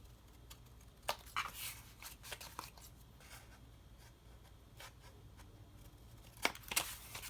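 Scissors make miter cuts in folded paper for a notepad, a few quiet crisp snips spaced apart, close and alone against a faint background.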